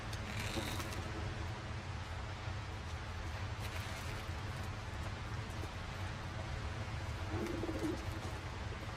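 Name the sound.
pigeons cooing in The Last of Us Part II video game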